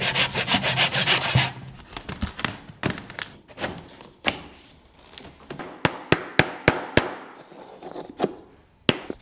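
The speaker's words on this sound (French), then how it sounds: "Coupe les plinthes aux dimensions souhaitées et remets-les en place." Baseboards are cut to size while fitting a glass door: a burst of rapid rasping saw strokes, then scattered scraping, knocks and a run of sharp clacks, close up, with no talking.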